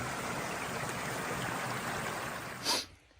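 A stream flows loudly and steadily at close range, a constant broadband rush of water that carries on for most of the moment before a brief knock and a sudden drop to quiet.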